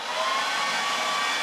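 An AOETREE cordless leaf blower runs at its lower first stage, rated about 60 mph airflow, giving a steady, loud, close whooshing hiss of rushing air with a whining motor tone and no talking.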